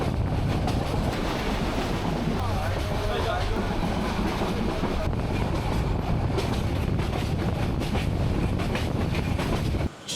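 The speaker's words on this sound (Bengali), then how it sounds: "এখানে আমাদের ট্রেন একটু স্লো করবে" Kalni Express passenger train rolling on the Dhaka–Sylhet line as it slows on approaching Biman Bandar station, a steady close rumble of wheels and carriage noise with rattling and wind throughout, continuous and loud.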